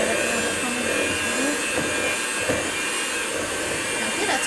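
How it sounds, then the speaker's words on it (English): An electric mixer whirs steadily and loudly, beating butter, cream cheese and sugar together in a kitchen. "she's going to turn on the mixer, and she's going to mix that's the butter"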